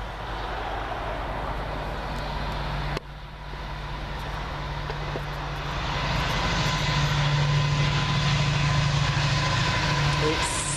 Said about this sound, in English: I think we got a class 70 on the way.